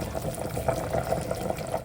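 Water filled into a container, a short steady gurgling stream with slight bubbling, close and continuous before cutting off abruptly.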